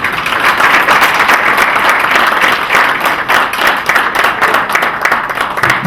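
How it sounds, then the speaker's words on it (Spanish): Loud, dense applause from an audience at a corporate presentation in Mexico, continuous clapping that holds steady for several seconds with no talk over it. "Un aplauso, por favor"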